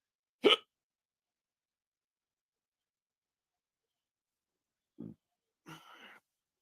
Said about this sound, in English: I got the fucking hiccups.